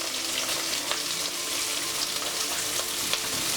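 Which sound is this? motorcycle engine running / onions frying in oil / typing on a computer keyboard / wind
onions frying in oil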